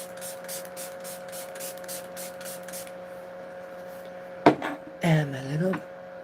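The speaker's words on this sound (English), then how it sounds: "Going with my J. Lee setting spray." J. Lee setting spray spritzed in a quick series of about nine short, even, hissing pumps, close and fairly quiet, followed after a pause by a few brief louder handling sounds.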